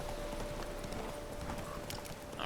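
Roach, a horse in The Witcher 3 video game, gallops with a quick, steady run of hoofbeats over a constant background hum, moderately close and fairly quiet, with no voices.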